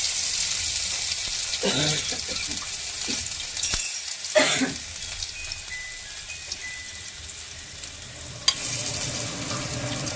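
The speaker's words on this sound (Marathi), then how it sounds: "तेल गरम झालेलं आहे त्यामध्ये अर्धा चम्मच जिरं घातलेलं आहे ते फुलफुलीत मस्त फुललेलं आहे लसूण जिरा अद्रकचा पेस्ट घालत आहे" Garlic, cumin and ginger paste frying in hot oil for spiced chickpea curry, a steady close sizzle with a few sharper crackles and bursts as the paste hits the pan, no talking.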